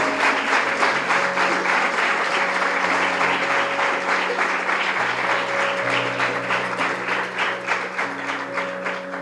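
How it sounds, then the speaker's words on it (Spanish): A church congregation applauds during a sermon, a steady rhythmic clapping with sustained keyboard chords droning underneath, gradually easing off toward the end. "Dale un aplauso al Señor"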